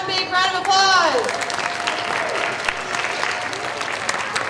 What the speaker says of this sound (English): let's give one big round of applause